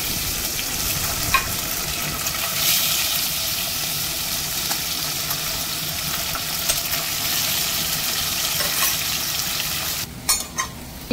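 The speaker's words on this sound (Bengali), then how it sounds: "এদিকে অন্য সাইডে মাছটাকে ভেজে নেব।" Fish fries in a pan with a loud, steady sizzle that holds for about ten seconds, scattered with small pops and occasional stirring noises, then a few sharp clatters near the end.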